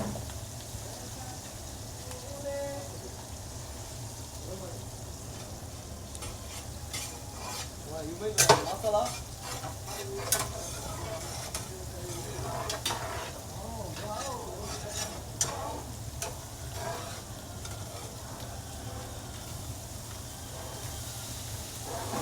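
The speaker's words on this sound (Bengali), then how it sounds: "বাট আগে এগুলো সব কিছু ভালো করে মিক্স করতে হবে, হালকা ফ্রাই করে নিতে হবে।" Onions and mixed vegetables stir-fry in a pan for Kerala-style poha, a steady close sizzle with a spatula repeatedly scraping and clinking against the metal pan and no talking.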